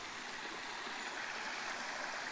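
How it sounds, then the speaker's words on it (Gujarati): Water gurgles and burbles steadily over stones in a stream at a quiet rocky ashram, a soft continuous wash with no voices. "જો કેવું ખળખળ પાણી."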